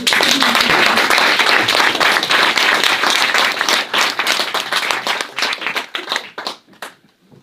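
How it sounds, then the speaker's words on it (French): An audience at a festival applauds a man named Yves with loud, close clapping that starts dense and energetic, then thins into scattered individual claps before dying away. "On peut l'applaudir, hein."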